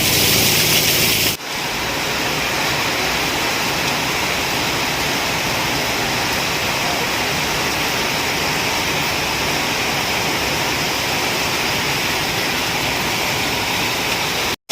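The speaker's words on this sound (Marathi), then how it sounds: "मुसळधार पाऊस चालू आहे." Heavy monsoon rain pours steadily in Shringartali, Guhagar taluka, a dense, loud, continuous roar of falling water with no break, preceded by a brief louder burst at the very start.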